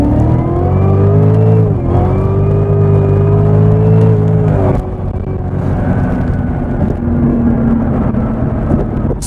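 A 2019 Cadillac CTS-V accelerates hard, paddle-shifting up from second gear; loud, close engine drone rises steadily in pitch, drops sharply at a gearchange, then climbs again with no talking over it.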